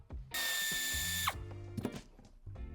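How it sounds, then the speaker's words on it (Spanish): A power screwdriver whirs for about a second, backing out a trim screw on a Mercedes-Benz GLE Coupé (C292), with close, quiet clicks and handling knocks before and after. "retiramos el tornillo que sujeta esta pieza en la parte central"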